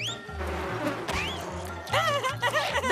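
Cartoon flies buzzing in an animated show, several whining, swooping buzzes that rise and fall over a music bed, growing louder and busier toward the end.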